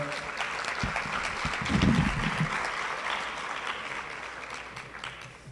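Applause for two guests at a University of Puerto Rico event, a broad steady patter of clapping from a gathered crowd with a few voices mixed in, swelling briefly near the middle before settling.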